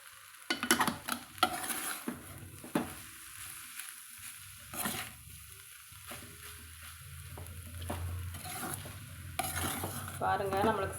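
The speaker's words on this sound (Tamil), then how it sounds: "நம்மளுக்கு சந்தவை இப்படி கலந்து விட்டோம்னா நல்லா உதிரியாக அப்படியே வருங்க, உடையாமல்" Freshly made rice noodles (santhakai) being stirred and tossed in a metal vessel, giving irregular close clinks and scrapes with soft rustling between them.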